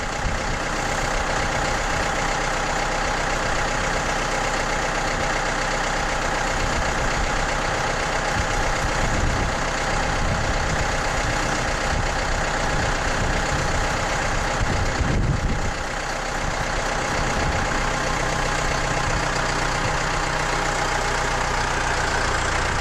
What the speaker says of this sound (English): He's gonna drive the tractor back in the shed there.